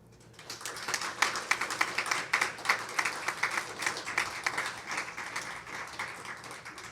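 Applause from a family group and relatives at a college athletic hall of fame banquet, a burst of clapping that swells quickly, holds with sharp irregular claps, then thins out.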